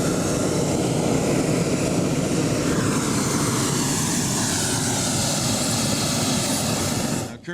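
A propeller aircraft engine drones loudly and steadily in flight at about 8,300 feet over a lake, a dense continuous roar that holds throughout and cuts off abruptly at the end.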